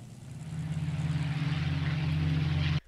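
A Spitfire fighter plane's propeller engine drones loudly and steadily with a deep, even hum, holding close and strong before cutting off abruptly near the end.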